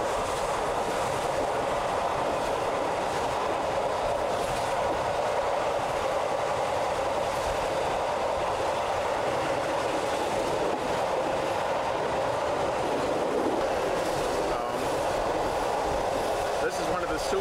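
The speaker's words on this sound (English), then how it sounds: "This is one of the super express trains that Czechoslovakia has." A Czechoslovak super express train rolls along steadily, with a continuous rumbling roar and faint rhythmic wheel clatter that hold at an even level throughout.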